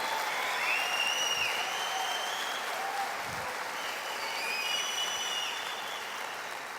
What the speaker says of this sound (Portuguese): Nós aplaudimos para abençoar Jesus.